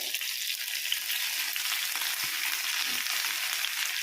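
Tomatoes and fenugreek leaves fry in a pan, giving a continuous close sizzle and hiss at an even level, with faint stirring scrapes and no voices.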